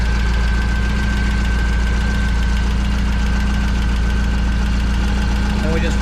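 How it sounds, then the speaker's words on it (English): A Saab Sonett engine idles just after a coolant refill, a loud, steady close-up drone with even rhythmic knocking throughout and a brief clatter near the end. "we just filled it with coolant, and we're running the engine to see if we can get it to circulate around a little bit."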